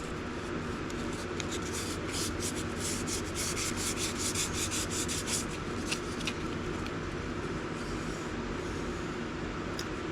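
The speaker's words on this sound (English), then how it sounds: "Putting a little bit of pressure on that to get the sandpaper inside of the edges" Sandpaper is pressed into the edges of a carved wooden wand and rubbed back and forth, making a close, continuous rasping with quick repeated strokes.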